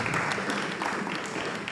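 Sustained audience applause fills a launch ceremony for an online academy as the president is invited to the microphone: dense, steady clapping from a crowd with no pause over a couple of seconds.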